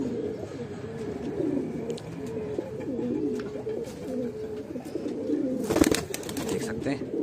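Kalsare, Golden Bajre and Lalsare pigeons coo steadily in a loft in Bhopal, a dense overlapping chorus of low rolling calls nearby, with a short burst of wing flapping or scuffling near the end.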